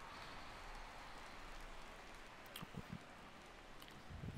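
Rain falls steadily in the MLB The Show 17 baseball video game as a faint, even hiss with a few soft ticks and taps scattered through it.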